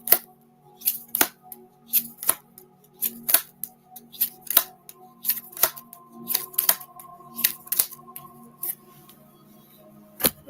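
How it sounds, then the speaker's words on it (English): Repeated crisp snaps and riffles of tarot cards being shuffled by hand, coming in an irregular steady rhythm over a faint background hum. "One more shuffle."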